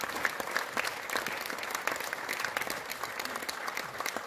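An audience claps steadily at a memorial ceremony marking the 58th anniversary of the death of founding president Syngman Rhee, a continuous, moderately distant patter of many hands without pause.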